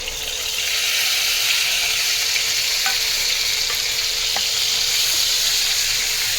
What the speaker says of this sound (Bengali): পেঁয়াজটি আমি একটু ভেজে নিই।